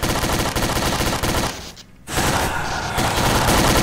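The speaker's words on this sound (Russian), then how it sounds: "Да вы в меня стреляете" Dense automatic gunfire and rapid shots from a Garry's Mod FNAF co-op match, loud and continuous with a brief dip before the barrage resumes.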